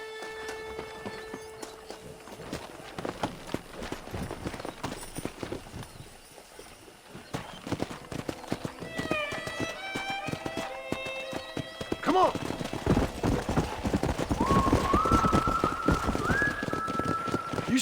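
Horse hooves clip-clop across open country in the video game Red Dead Redemption near a pack of wild horses, steady walking hoofbeats with bird calls and a whinny, under music that swells toward the end.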